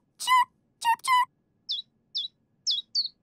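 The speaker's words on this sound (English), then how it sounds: "Chirp, chirp, chirp, chirp." A cartoon baby bird calls in a cartoon Easter scene: three louder chirps, then four quick, high, thin peeps spaced evenly, close and clear with no talking.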